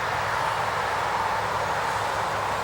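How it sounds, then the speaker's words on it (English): Steady distant highway traffic forms a continuous broadband rumble and hiss beyond a walnut-strewn outdoor spot, holding at an even level with no talking. "Got a highway up there if you can't hear it."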